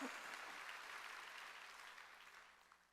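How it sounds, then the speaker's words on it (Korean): Church congregation applauding during a Wednesday worship service, a broad wash of clapping that starts strong and slowly fades over a few seconds, fairly distant and soft. "박수요 박수."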